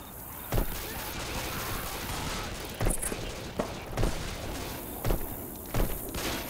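Gunfire while shooting zombies in Left 4 Dead 2 on Xbox 360: sharp, scattered shots and thuds stand out above a steady noisy game backdrop, about seven bursts spread irregularly across the stretch.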